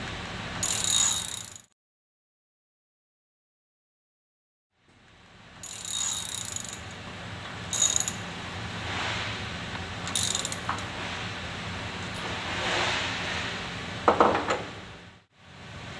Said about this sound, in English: using a socket wrench